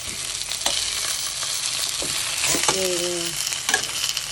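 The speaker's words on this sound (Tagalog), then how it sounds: "So, igisa ko muna ang isda." Fish sautéing in a hot pan for a miso sinigang, a steady loud sizzle with a few scraping stirs and a brief voice near the end.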